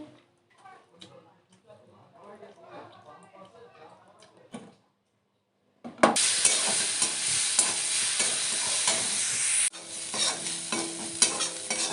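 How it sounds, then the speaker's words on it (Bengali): Gugli pond snails fry in a pan, a loud, steady sizzle broken by stirring clatter that starts abruptly after a stretch of quieter talk and small kitchen noises. "দেখুন গুগলিগুলো আমার ভাজা হয়ে গেছে"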